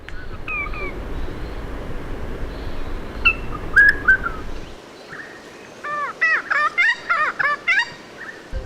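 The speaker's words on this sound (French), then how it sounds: "les chants d'accouplement des méliphages régents sont devenus les plus rares du monde" Song of a regent honeyeater: clear, fluting whistled phrases, then a rapid run of repeated bell-like notes near the end, set against a steady low background rumble that cuts out partway through.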